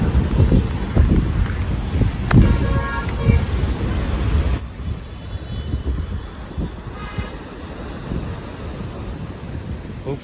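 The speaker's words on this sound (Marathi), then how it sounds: "खूप स्पीडने लाटा येत आहे" Sea waves roll in at Marine Drive, Mumbai, as a continuous wash of surf heavily masked by strong wind buffeting the microphone. The roar eases slightly partway through. No one speaks.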